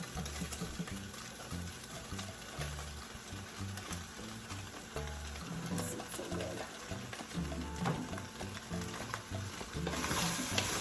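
Meat and potatoes searing in a pan for a stew, a dense steady sizzle with irregular stirring scrapes close by and a low rumbling undertone, fairly quiet overall and without talk.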